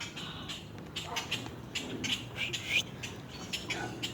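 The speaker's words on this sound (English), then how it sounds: "Where's the bird at?" A bird calls near a backyard swimming pool, giving short squawking chirps in irregular bursts, fairly close and moderately loud over faint background noise, with people talking briefly around it.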